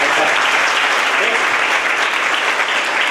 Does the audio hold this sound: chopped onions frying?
no